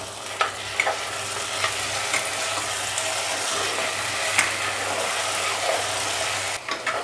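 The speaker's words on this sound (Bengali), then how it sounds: "এবার এটা ভাজা ভাজা হবে, মশলাটা তেল ছাড়বে" Spice paste for moong dal bora jhol fries in hot oil in a pan, giving a steady close sizzle with scattered crackles and occasional stirring scrapes throughout.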